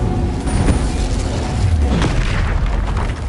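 An Incendio fire spell cast in Hogwarts Legacy erupts as a loud, roaring burst of flame with booming low rumble, sustained and crackling for about three seconds.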